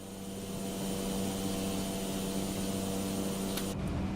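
A Cessna 208 B turboprop in Microsoft Flight Simulator drones steadily during takeoff, a constant loud engine hum with a whining tonal layer, and a brief noisy burst near the end.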